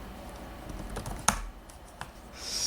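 Keys on an ASUS VivoBook S14 laptop keyboard are typed in a short, irregular burst of soft clicks, with one sharper keystroke standing out, close up and otherwise quiet.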